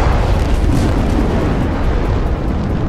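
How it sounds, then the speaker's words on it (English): Cruiser gunfire and shell explosions in the naval battle game World of Warships: a continuous, heavy low rumble of booming blasts, loud and close, with no talk. "There's a cruiser firing at me"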